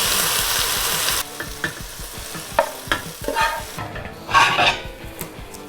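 Broccoli stir-frying in a pan with a splash of soy sauce, a loud hiss that drops after a second into a steady sizzle broken by scraping stirs and a few utensil clinks against the pan.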